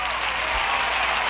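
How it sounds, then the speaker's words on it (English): A dense, loud wash of crowd applause, many hands clapping at once, fills a short continuous burst without any break or speech. "let's get a big round of applause"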